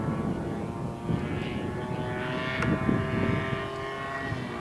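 An RC model Bates Hellcat aircraft flies a gear pass, giving a steady propeller drone at moderate distance that swells and fades slightly as it passes.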